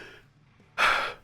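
A voice imitates a frightened character's shuddering panting from Splatoon 3. One sharp, breathy gasp comes after a quieter breath, close and brief.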